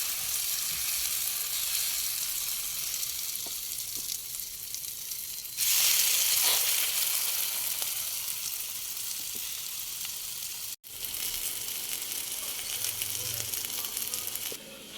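Eggplant omelette (tortang talong) frying in oil in a pan, a steady, close crackling sizzle that surges louder midway, with a brief break near the end.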